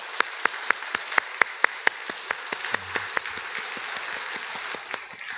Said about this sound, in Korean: 이분들을 환영하는 의미에서 여러분들 인사드릴 때 다 같이 박수로 환영하시기 바랍니다